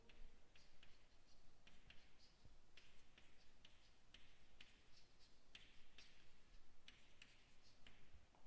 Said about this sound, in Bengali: ধরো আমি লিখছি বোর্ডে।